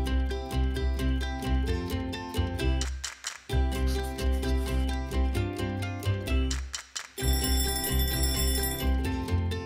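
An alarm clock rings continuously with bright, rapidly repeating electronic tones over a musical backdrop, loud and close, with no talking.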